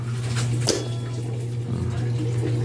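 Water rushing steadily into a rainwater tank fed by a pump on a wye-delta starter, a continuous close hiss and splash over a constant low motor hum.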